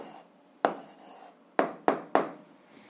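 A pen writes an answer in a notebook, heard as four sharp, close scratching strokes. There is a quiet pause after the first stroke, then three strokes follow in quick succession.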